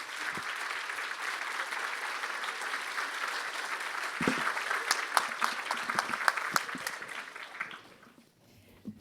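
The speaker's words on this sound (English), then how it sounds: "Please, big round of applause for our wonderful panel." Audience applause for a panel at a disinformation conference, a sustained dense wash of clapping that swells slightly midway, then thins to a few scattered claps and fades out near the end.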